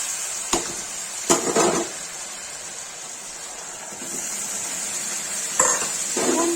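Sliced onions frying in a kadhai for kadhai chicken, a steady hiss of hot oil with several scraping stirs of a spoon against the metal pan, close by, no voices.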